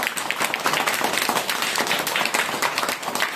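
A crowd bursts into dense, loud applause for a young girl, many hands clapping continuously throughout.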